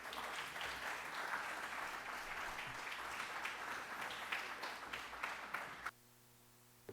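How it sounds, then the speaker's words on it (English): Congregation applauding inside First Missionary Baptist Church as a woman comes to the stage: sustained, moderately distant clapping from a crowd that holds steady for about six seconds, then stops abruptly into near silence. "If y'all will join me in giving her a round of applause as she comes to the stage."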